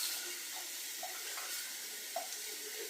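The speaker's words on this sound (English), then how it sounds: "I'm just going to take that, open it up, and pour in that liquid for that brine" Liquid brine poured from a jar into a brine bag for a holiday turkey, a soft steady trickling stream with faint gurgles and splashes, quiet and continuous.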